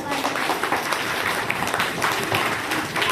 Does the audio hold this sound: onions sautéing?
no